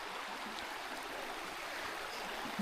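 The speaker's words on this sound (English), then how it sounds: "But just to hear the water, another excellent spot. Such a pretty little stream." A small, pretty stream flows steadily at a campground, its continuous wash of rushing water holding an even level from start to finish with no voices over it.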